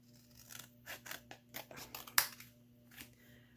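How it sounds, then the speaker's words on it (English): Repeated crisp snips of scissors cutting through card, close and quiet, in an uneven series of about a dozen cuts with short pauses. "I'm gonna get my scissors and I'm going to cut them"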